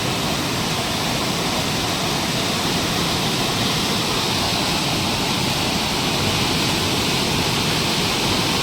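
Flooded river water rushes in a steady, loud, continuous roar, a dense unbroken wash of noise close by with no voices.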